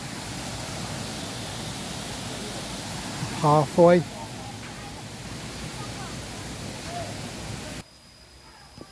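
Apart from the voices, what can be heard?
waterfall at Nong Bua Lamphu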